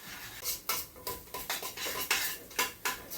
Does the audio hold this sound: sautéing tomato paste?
yes